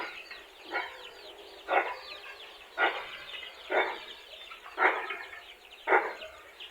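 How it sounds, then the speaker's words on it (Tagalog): Free-range breeder hens, including Plymouth and Rhode Island birds, give about six evenly spaced, fairly faint clucks or squawks against a quiet background. "Yan yung mga hen natin mga kabrad."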